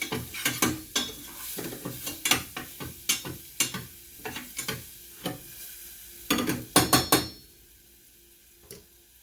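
Ginger and garlic frying in a pan are stirred with a utensil, giving a run of sharp scraping strokes in an uneven rhythm over a low sizzle, close and fairly loud, ending in a single last scrape.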